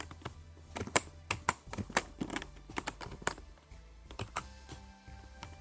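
Keys clatter on a computer keyboard while entries are typed into an Excel spreadsheet, an uneven run of close, crisp taps with short pauses between bursts, heard alone without talk.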